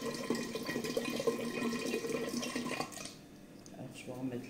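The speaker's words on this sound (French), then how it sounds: "Je vais mettre un peu d'eau de noix de coco, de l'eau de coco" Coconut water poured into a jar, a steady liquid trickle under a person speaking French, stopping about three seconds in.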